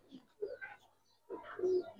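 A Giribaz silver lalpatti pigeon gives two soft, close coos separated by a short pause, faint and alone.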